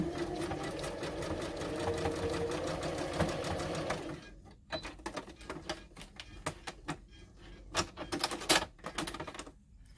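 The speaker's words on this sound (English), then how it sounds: "And I'll keep sewing" A sewing machine stitching a lace seam runs in a fast continuous whir for about four seconds, then turns to short bursts of stitching and clicks, with no talk.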